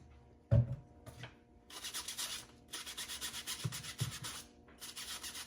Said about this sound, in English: And just brush it like that with a toothbrush.